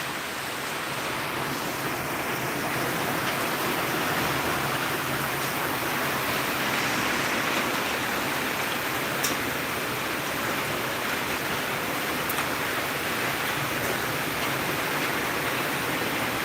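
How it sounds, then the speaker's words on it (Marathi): Heavy stormy rain with strong wind pours down during a hailstorm in Badlapur. It sounds like a dense, unbroken roar of rain and gusts that stays loud throughout, with no voices. "आणि वादळी पाऊस आहे हा वादळी पाऊस म्हणजे वादळी वाऱ्यांचा पाऊस आहे"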